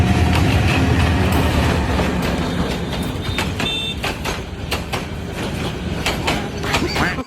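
A running train rumbles loudly with rhythmic clacking of wheels over rail joints, a steady near roar that fades slightly, with a brief high whistle-like tone partway through.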